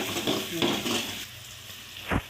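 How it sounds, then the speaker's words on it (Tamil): One large onion, cut up, sautéing in a pan with fennel seeds and two pieces of cinnamon: a low sizzle under repeated stirring scrapes, ending in a single louder knock of the spoon. "பெரிய வெங்காயம் 1 வெங்காயம் கட் பண்ணி போட்டு நல்லா வதக்கிக்கலாம்"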